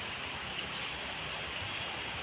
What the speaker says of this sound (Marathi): हे मी तुम्हाला माझ्या खिडकीतून दिसणारा हा पाऊस दाखवतोय